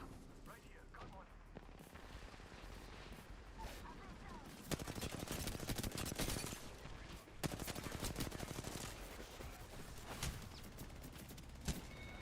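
Gunfire in a video game firefight: rapid bursts of shots and fusillades, loud and sustained, with a voice talking over parts of it.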